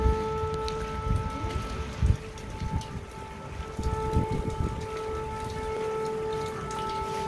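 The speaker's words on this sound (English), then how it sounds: "We hear now that siren, which is warning about air alert." A distant air raid siren drones in a steady, unbroken wail throughout, over a crackling, patter-like background noise.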